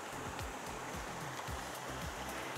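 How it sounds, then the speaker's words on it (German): A creek more than 200 metres long runs through a rural plot in Canada, spilling over a small waterfall. It gives a steady, close babble and rush with no pauses and no voices. "Hier plätschert das Wasser nur so vor sich hin, es rauscht vor sich hin"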